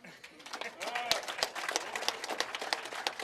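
Audience applause at an equipment aid handover ceremony in the Oshana region, a fairly faint burst of many hands clapping at a brisk, uneven rhythm, filling the short moment alone.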